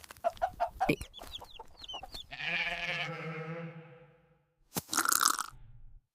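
Cartoon chickens cluck and squawk in quick bursts, followed by a long bleating goat call and a final crunching burst, all close and fairly loud with no talking.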